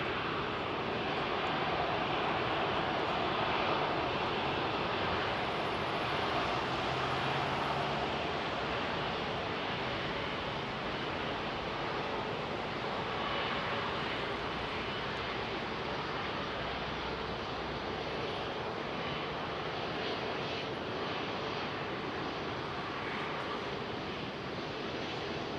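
An Airbus A380 jet airliner rolls for departure at Heathrow, its engines giving a loud, steady, broad roar that holds without a break for the whole stretch, with no voices.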